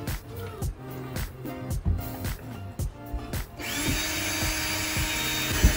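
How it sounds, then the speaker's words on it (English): A power drill drives screws through pantry shelving into wall studs, with several short bursts of whirring and grinding close by, then a longer, higher-pitched sustained spin near the end. "So I just pre-drilled some of the holes, found my studs, and I'm gonna screw them in."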